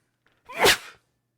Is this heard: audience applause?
no